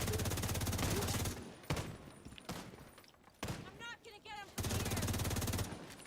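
Gunfire rattles in The Division 2 as loud rapid automatic bursts open and close the moment, broken by single sharp shots in between, with a voice talking in the gaps.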